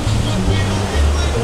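Ocean waves wash onto a beach at night in Mazatlan, a close, constant roar of surf with a low rumbling undertone through the whole short stretch.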